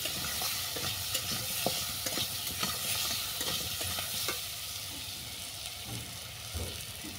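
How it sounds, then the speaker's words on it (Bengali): Turmeric and salt being stirred into a vegetarian banana-stem sour dish in a frying pan, a soft continuous sizzle with light scraping stir strokes, fairly quiet and steady, no talking. "হলুদ আর লবণ ভালো করে মিশিয়ে নিলাম"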